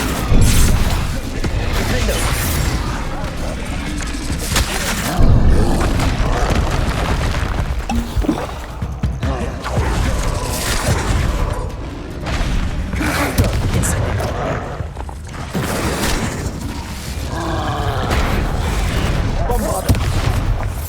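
Spell explosions from Confringo and Bombarda in Hogwarts Legacy, with heavy booms and crashing blasts going off in rapid succession across the whole stretch, loud and close, mixed with voices and battle noise.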